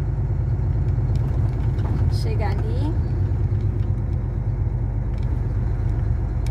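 A truck at the JBS loading site in Uberlândia, its engine immobilized, rolls slowly with a steady, deep engine rumble; someone talks over it throughout.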